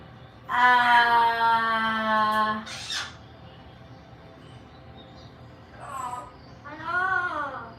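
A pet parrot imitates a human greeting in a loud, close, drawn-out warbling call, then makes two shorter rising squawky utterances after a pause, in a quiet room.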